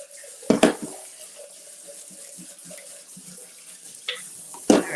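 Running tap water splashes over fresh blueberries, blackberries and raspberries being rinsed in a kitchen sink, with two sharp bursts of flow near the start and end around a quieter stretch of trickling.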